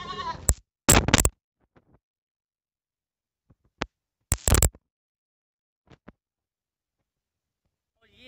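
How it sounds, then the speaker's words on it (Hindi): Gulabi Rajanpuri goat kids bleat in a few short, fairly loud calls, with two clustered bursts and long quiet gaps between them. "बकरी के बच्चे"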